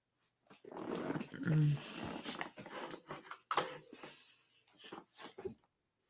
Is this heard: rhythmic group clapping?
no